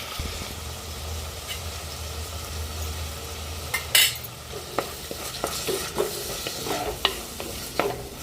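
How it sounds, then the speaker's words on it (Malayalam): Masala being sautéed on a low flame in a pan, a soft steady sizzle with repeated scraping and tapping of a spoon against the pan, one sharper clink, and no voices. "സിമ്മിലിട്ടങ്ങാണ്ട് വഴറ്റിയെടുക്കുക"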